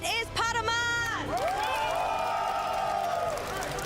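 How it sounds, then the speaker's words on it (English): A crowd at the 2024 Pokémon Vancouver Regional Championships cheers and whoops loudly for the regional champion, with shouts, clapping and excited voices filling the hall throughout. "Please give a huge cheer for our champion."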